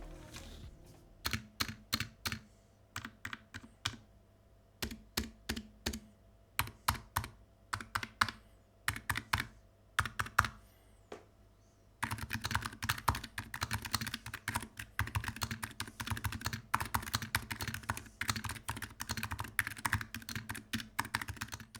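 Typing on a compact mechanical keyboard: crisp, close key clicks, first in sparse bursts with pauses, then a fast continuous run of keystrokes.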